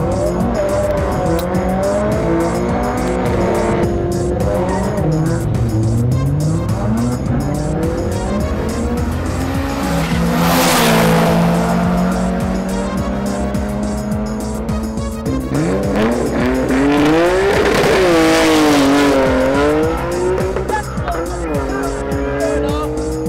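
Race cars roar through a track section, tires squealing and skidding with engine notes rising and falling as cars pass close by, loud and continuous throughout.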